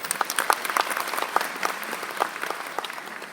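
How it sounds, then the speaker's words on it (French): An audience at a state decoration ceremony applauds a minister being introduced, dense steady clapping from a crowd filling the hall without a break. "que je vous demande d'applaudir très fort"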